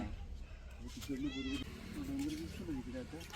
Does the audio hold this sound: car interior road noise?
no